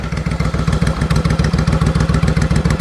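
A 2002 Suzuki Intruder VS1400 cruiser motorcycle idles close by, its engine giving a loud, steady low throb with an even pulsing rhythm throughout.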